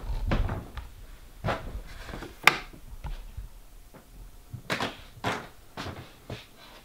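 Shelf doors built from scrap lumber in a homestead house are opened and closed close by, giving a series of wooden knocks, clacks and a sharp bang, spaced irregularly with quiet gaps between.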